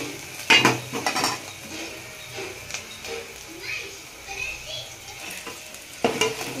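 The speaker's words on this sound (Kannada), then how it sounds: "ಚೆನ್ನಾಗಿ ಫ್ರೈ ಮಾಡ್ಕೋಬೇಕು. ಈರುಳ್ಳಿ ಬಂದ್ಬಿಟ್ಟು ಗೋಲ್ಡನ್ ಕಲರಲ್ಲಿ ಬರಬೇಕು." Onions frying in oil and stirred for vegetable sambar, a steady sizzle with intermittent scraping of a spoon against the pan, close by, with a few louder clatters at start and end and faint voices in the background.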